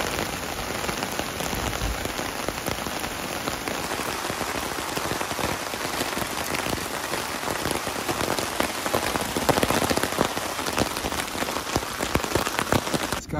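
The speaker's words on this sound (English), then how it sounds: "Sideways rain." Heavy sideways rain pounds a tent in the Boundary Waters wilderness, a loud, dense, continuous drumming of close drops on fabric throughout, with scattered sharper hits.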